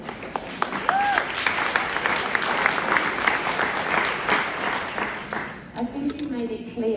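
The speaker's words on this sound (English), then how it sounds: "there was a little applause going there" An audience at a leadership panel event in Italy breaks into steady applause that swells and sustains for several seconds, with people talking over it before it thins out near the end.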